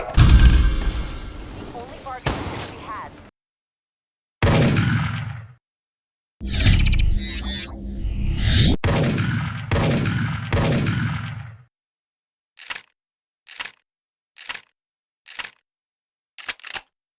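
Shotguns firing in the first-person shooter Dead Effect 2: a run of heavy blasts and pump or reload clatter, then a spaced series of short, sharp shots near the end, with gaps of silence between.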